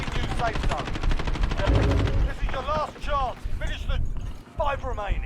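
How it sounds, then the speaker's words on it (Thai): Rapid gunfire bursts and shots in the battle royale shooter Call of Duty Warzone, loud and dense early then scattered, with voices talking over the combat. "ให้มันยิงกันก่อนแวะมันยิงกันอยู่"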